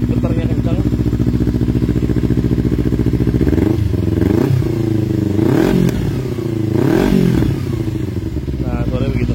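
Kawasaki Z250 Special Edition two-cylinder motorcycle with ABS idling steadily, then revved three times in quick throttle blips, a smooth close engine note rising and falling.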